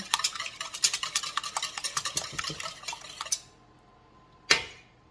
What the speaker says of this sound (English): let's just whisk these 3 eggs up